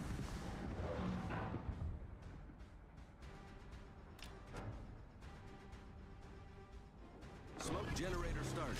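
Naval guns in a video game fire at an enemy warship, booming deep and heavy through the clip with sharper cracks between them, while a voice talks over the battle noise.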